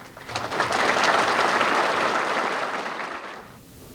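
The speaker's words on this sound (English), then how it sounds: "Please join me in a great big round of applause for Dick Berggren" A crowd at a Hall of Fame induction ceremony gives a big round of applause as the inductee heads to the podium; the clapping swells, holds strongly, then fades toward the end.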